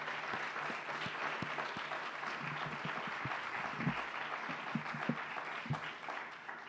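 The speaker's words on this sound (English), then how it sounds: "let's give them a round of applause for that." Audience applause at the Ulster County Executive's 2021 budget address, steady dense clapping from a large crowd indoors, sustained at an even moderate level throughout with a few sharper claps standing out near the end.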